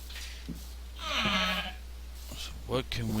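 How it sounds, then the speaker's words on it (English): Sheep in the blocky sandbox game Minecraft, FTB Infinity modpack, give one clear drawn-out bleat in the middle, with a shorter bleat near the end, while someone talks over a steady low game hum. "There's plenty of sheep around here."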